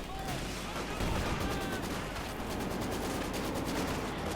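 Dense, continuous gunfire and machine-gun bursts from a Company of Heroes 2 real-time strategy battle, rapid overlapping shots with distant explosions, steady and fairly loud throughout.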